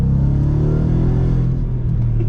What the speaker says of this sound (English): Interestingly, you don't get a ton of supercharger whine, but it's a brilliant sounding V8.